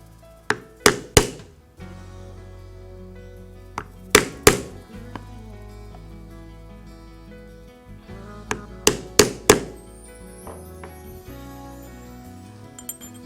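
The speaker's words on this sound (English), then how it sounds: "now I will take the thonging chisel and punch matching holes" Thonging chisel hammered through leather to punch stitching holes for a mobile phone case, sharp mallet strikes in quick clusters of two or three, close and crisp, with quiet pauses between groups.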